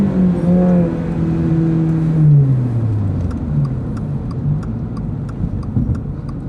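A Subaru BRZ pulling hard: close engine drone climbing in pitch, dropping at a shift, then climbing again, with a steady hum of road noise and faint ticking throughout.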